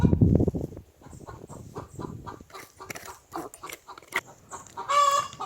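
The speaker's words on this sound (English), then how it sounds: "sounds like one of my hens have just laid an egg" Hen cackling after laying an egg on a small farm, a run of loud, rhythmic clucks building to a higher, drawn-out squawk at the end, near and clear.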